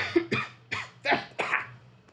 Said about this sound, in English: This cough keeps just attacking me.